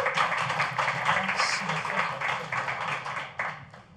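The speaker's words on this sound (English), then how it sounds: "Give him a round of applause." An audience at an evening tech meetup applauds to welcome a speaker, with sustained, moderately loud clapping from a modest crowd and faint chatter underneath.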